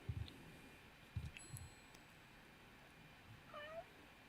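A cat, an American Ragdoll or Bengal breed, meows in The Sims video game: soft, faint mews with light rustling, ending in one rising meow.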